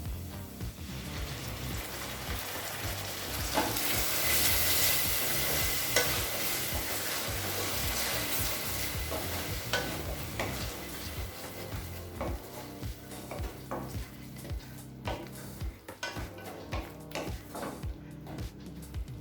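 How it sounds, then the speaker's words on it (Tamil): Ground onion paste hits hot oil in a pan for egg gravy and is stirred, a steady loud sizzle and frying hiss throughout with scraping stirs, easing slightly toward the end. "இப்போ அரைச்சி வச்சுருக்க விழுதை இதில் சேர்த்துக்கலாங்க."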